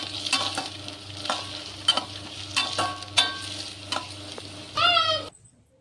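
Onion and ginger-garlic paste frying in a pan for mushroom curry, with a close, steady sizzle broken by repeated scraping stirs of a spatula and a final louder clatter before it cuts off.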